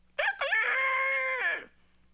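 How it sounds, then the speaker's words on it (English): A single cartoon rooster crow, loud and close, a rising start then a long sustained call that trails off, alone against quiet background. "Fifi sounds like a rooster"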